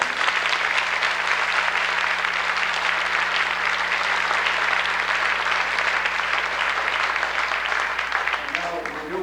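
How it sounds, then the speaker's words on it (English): Steady, loud applause from an audience at an elementary school sixth grade banquet, sustained dense clapping filling the room for several seconds and easing slightly toward the end. "Let's give them a real round of applause."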